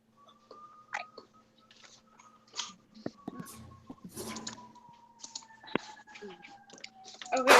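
Someone types on a computer keyboard in bursts of light, uneven clicks over a quiet room during an online meeting, with faint background sounds and no clear talk.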